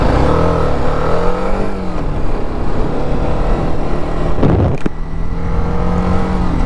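A TVS Apache RR 310 motorcycle engine runs steadily up close with a rattling, knocking mechanical noise from a handlebar pulling fault, and a sharp clunk about two-thirds of the way through.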